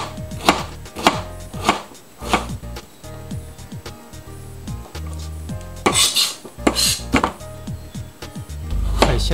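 A freshly whetstone-sharpened knife chopping bitter melon into thin wedges on a cutting board, a rapid series of crisp, close taps in bursts with brief pauses, no voices.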